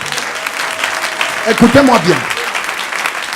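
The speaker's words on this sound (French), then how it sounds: "Est-ce qu'on peut donner une bonne main d'acclamation?" Church congregation applauding under a preacher's loud voice, with broadband clapping noise running throughout a call for cheers; someone speaks over it.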